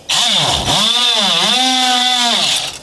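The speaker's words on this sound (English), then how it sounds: "let me go ahead and get this cut off and show you what it looks like. I'll use this multi-tool" Oscillating multi-tool cutting into the fiberglass hull of a Boston Whaler boat under restoration, a loud close buzzing whine whose pitch dips and rises as the blade bites and loads, lasting nearly three seconds.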